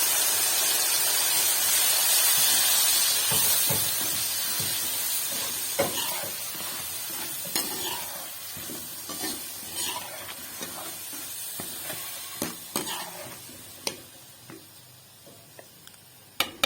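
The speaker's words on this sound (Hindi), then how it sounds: "मैं सबसे पहले अब डालूंगी अदरक लहसुन का पेस्ट" Ginger garlic paste sizzles in hot oil with chili for sarson ka saag, a steady close hiss, and a spoon scrapes and stirs the pan in sharp irregular clicks as the frying fades slightly.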